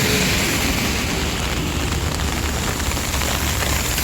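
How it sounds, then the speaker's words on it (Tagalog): Steady, dense heavy rain in Hong Kong pattering loudly and continuously on surfaces and an umbrella nearby, with no voices. "Narinig nyo guys, ang ulan."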